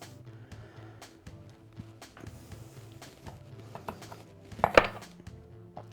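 A knife cuts a smoked sausage in half on a board. Faint, scattered taps lead up to one sharper knock of the blade, all close and quiet, with no one talking.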